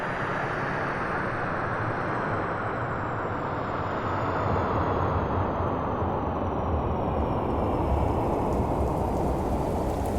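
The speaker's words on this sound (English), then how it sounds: "It was raining." Steady, heavy rainfall pours on the ground in an audio play, a dense continuous hiss with low rumbling undertones and no voices, constant and close throughout.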